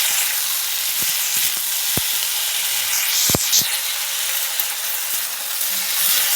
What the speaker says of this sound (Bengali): ওই তেলে একটু পাঁচফোড়ন দিয়ে বসিয়ে দিলাম। আলু কাটা দিয়ে একটু কষিয়ে নেব